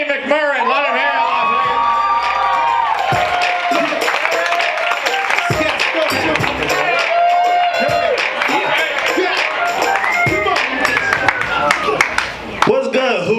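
A comedy club crowd at a Hooters stand-up show in Las Vegas cheers, whoops and applauds loudly and continuously, with talking and shouts mixed through the noise.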